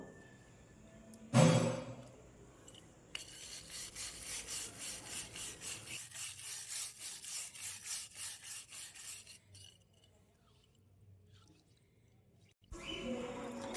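Cement is scrubbed and scraped off a floor by hand. A sharp scrape opens, then a long run of rhythmic rubbing strokes follows, close and moderately loud. It fades into quiet, and another burst of scraping starts at the end.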